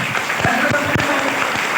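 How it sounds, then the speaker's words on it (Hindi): An audience claps for a child at a religious katha discourse, a steady wash of many hands applauding throughout, fairly loud and close, with no speech over it. "इसके लिए ताली बजाओ"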